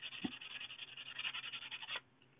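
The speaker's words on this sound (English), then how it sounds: "use that fine sandpaper to really polish out" Fine sandpaper polishing the claw of a SA Sports Crusader recurve crossbow, a close, quick run of scratchy back-and-forth rubbing strokes lasting about two seconds, then quiet.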